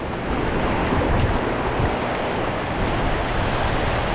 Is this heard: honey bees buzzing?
no